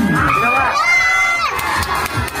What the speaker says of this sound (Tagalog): Wala bang malakas na hiyawan dyan?